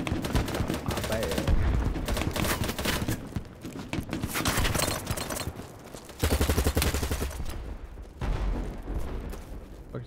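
Rapid bursts of automatic gunfire in the video game BattleBit Remastered, loud and dense, with rattling volleys stacked close together and brief lulls between clusters of shots.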